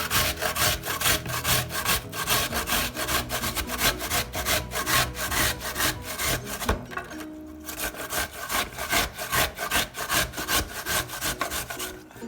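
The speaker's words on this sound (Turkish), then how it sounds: "Öncelikle soğanlarımı rendeleyeceğim" Onions rubbed against a hand grater for a Turkish etli ekmek filling, a fast, steady rasping back and forth with a brief pause midway, close and loud, no talking.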